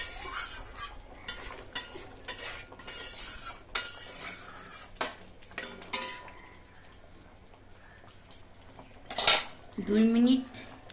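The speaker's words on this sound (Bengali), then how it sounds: "দু মিনিট তাহলে ঢাকা দিয়ে রাখবো" A lid is set on a cooking pot of kosha aloo dum made with new potatoes: scattered metallic clinks and utensil taps, then a loud clang and rattle near the end.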